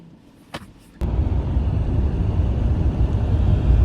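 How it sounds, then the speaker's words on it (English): A van driving along a straight, empty road, preceded by a couple of brief knocks, then a steady loud road and engine rumble heard from inside the cab. "A nice straight road here, lovely to drive on, no one on it."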